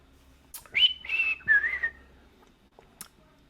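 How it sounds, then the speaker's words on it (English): A single person whistles a short, wavering three-note tune indoors, close and fairly clear over quiet room tone, followed by a brief click. "I can whistle."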